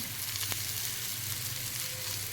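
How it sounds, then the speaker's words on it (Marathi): Onions frying slowly over low heat in a pan for egg masala, a dense, continuous close sizzle with one brief tap near the start and no talking. "कांदा आपला सोनेरी कलर येतोपर्यंत तोपर्यंत मंद चांगला भाजून घ्यायचा"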